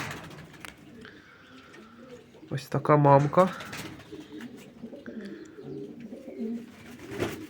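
A marbled homing pigeon mother gives a short, throaty cooing burst mid-way, close and fairly loud, while someone talks calmly before and after it.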